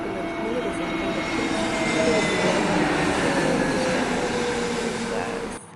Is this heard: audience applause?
no